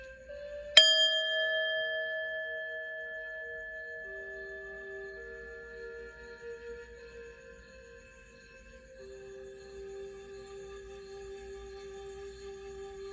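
A single bell is struck once and rings out with a long, clear, slowly fading tone that hums on alone for several seconds.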